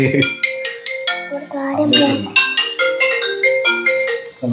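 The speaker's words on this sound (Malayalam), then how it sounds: "നിന്റെ ഫോൺ അടിക്കുന്നു" A phone ringtone plays a repeating electronic melody of bright, bouncy notes, while people talk over it.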